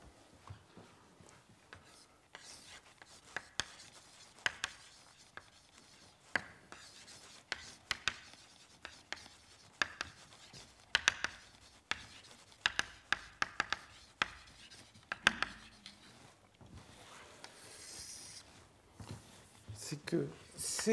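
Chalk taps and scrapes across a board during a French physics lecture, sharp irregular strokes close by while a man lectures between and over them.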